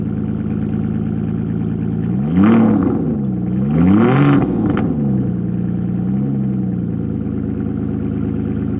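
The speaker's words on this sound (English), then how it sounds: "Listen to this absolutely insane V12" Aston Martin DB9 Volante's V12 waking up and being revved, a loud close idle swelling into two sharp throttle blips with rising and falling pitch, then a smaller blip before settling back to a steady hum.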